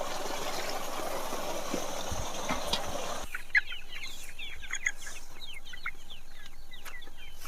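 Chickens cluck and chirp on an organic farm. Soft, scattered calls repeat close by over a quiet outdoor background after a noisier opening stretch.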